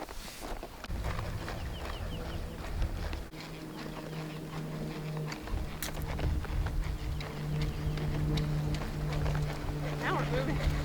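Horse hooves clip-clop at an unhurried walking pace, with scattered ambient noises and a faint low hum around them.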